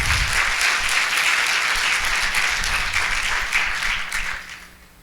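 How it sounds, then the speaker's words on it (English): A school audience at a district State of the Schools event gives a sustained round of applause, dense and even, which fades out over the final second. "So how about a big round of applause for Mr."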